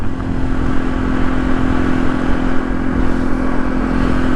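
A motorcycle ridden at a steady cruise on a road, its engine droning continuously and loud with a constant hum and wind rush, no clear rev changes.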